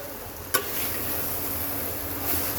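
Shapla, water lily stems, frying with prawns in a pan, giving a loud, constant sizzle with a sharp utensil scrape as the mixture is stirred.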